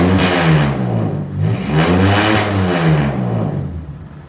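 A restored truck with a Dana 60 front axle, 10 1/4 rear and 306 duals revs its engine hard, several loud rising and falling throttle blips, close and alone without talk.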